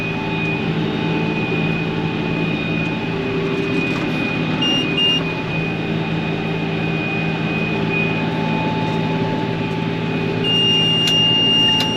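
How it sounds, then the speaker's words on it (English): A camera drone flying over a hay-baling farm gives a steady, loud mechanical hum with sustained tonal whine and little change throughout, no voices. "See if y'all see this drone."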